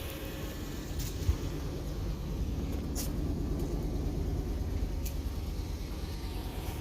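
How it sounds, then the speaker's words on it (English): A Lexus GS400 V8 engine idles quietly in a steady, low rumble, close by and even, with a couple of faint clicks on top and no talking. "Like I say, it's quiet for a V8 car."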